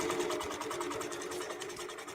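A QBOT computerized quilting machine stitching out a design on a quilt, a rapid, even mechanical whirring and needle chatter running steadily and close throughout, fairly quiet.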